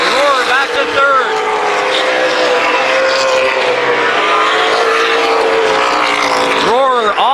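Race cars roar around a motor speedway oval during a main event, a loud continuous engine drone with cars sweeping past up close near the start and end, while an announcer talks over the noise.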